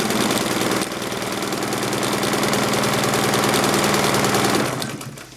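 A Necchi BU Mira sewing machine runs fast and steady for several seconds, a loud, even mechanical chatter with a rapid rhythmic knock that winds down at the end.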